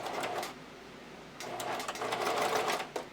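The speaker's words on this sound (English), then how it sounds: "I'm going to use a tight zigzag stitch" A sewing machine runs a tight zigzag stitch along strap elastic for a bra, in two bursts of rapid mechanical whirring and clatter separated by a short pause of near quiet.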